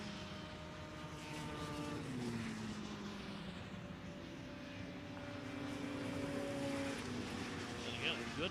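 Superstock 340 liquid-cooled racing snowmobiles run on a frozen pond track. Their engines whine at a distance and shift pitch as the sleds pass, with a low rumble throughout.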